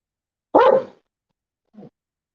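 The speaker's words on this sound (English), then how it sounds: "Don't you bark at me." A dog gives one loud, close bark followed about a second later by a short, quieter yip, with silence around both.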